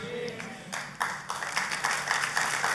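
Church congregation applauding during a sermon: after a brief spoken moment, scattered claps begin and quickly thicken into continuous, fairly close hand-clapping that keeps building.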